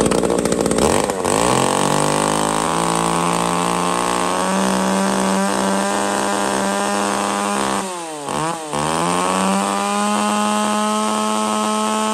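A Japanese chainsaw runs loud and close, holding a high, steady whine, then briefly dips and bogs down near the eight-second mark before revving back up.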